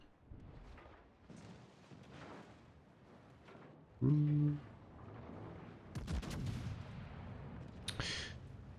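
Warship secondary battery guns firing in World of Warships, heard as scattered booming shots and bursts, one strong blast midway and sharper cracks later, with a faint voice talking underneath.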